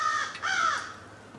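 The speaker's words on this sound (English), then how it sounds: "Got crows, we got chickens going here." Crows caw on a rural homestead, two harsh, drawn-out calls in quick succession, fairly clear and near, fading into quiet farmyard background.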